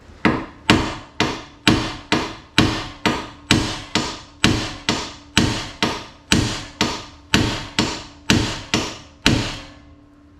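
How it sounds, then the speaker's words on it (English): Repeated sharp metallic hammer blows on a Jeep Commander's steel spindle, about twenty strikes at a steady brisk rhythm, each ringing briefly before the next, loud and close. "and then smack this with a hammer until they separate."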